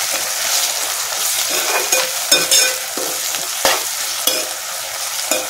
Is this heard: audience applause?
no